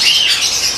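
Opaline pale sex-linked mutation cage birds chirp in a dense, continuous high twittering chorus, loud and close, with no pauses.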